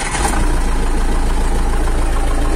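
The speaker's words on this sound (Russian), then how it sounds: "Ну вот, заводим." A tractor engine fires up in frost without preheating and settles into a loud, steady, close running drone that continues unbroken.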